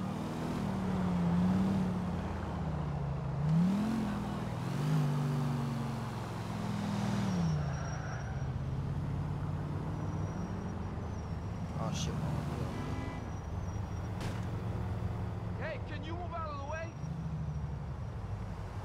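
Car engine drones while driving through city streets in GTA IV, pitch swelling early then settling into a steady hum, with a few brief clicks and chirps of game sounds later on.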